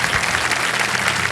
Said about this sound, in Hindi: ताली बज गई, लगा दे ताला